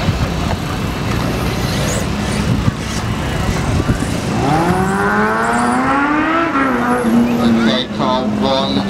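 Race trucks on a circuit, engines droning at a distance before a rising roar as one accelerates past and crosses the line, under continuous commentary.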